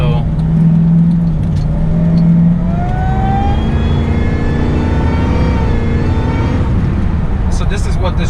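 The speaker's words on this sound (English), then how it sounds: "That supercharger whine" A Ford SVT Lightning muscle truck accelerates hard, its supercharger whine climbing in pitch over a loud engine and road roar from inside the cab, with a person talking over it.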